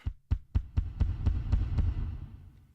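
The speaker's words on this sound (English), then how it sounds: "I can send some of my bass drum to those effects. Let's turn up S1 and add some reverb." A run of about eight punchy bass drum hits from the Redrum drum machine in Reason 5 at a steady pace, each trailing into a reverberant wash that swells and slowly fades.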